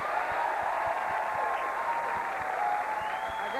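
A television studio audience claps in a vote, dense, steady applause that holds evenly throughout at moderate loudness, heard alone.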